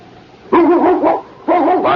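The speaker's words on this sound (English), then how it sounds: "Barking." Two bursts of a dog's barking in an old-time radio drama, a mid-sized dog heard through a window in a dim Yukon setting, each burst a quick cluster of loud, close barks with a short pause between.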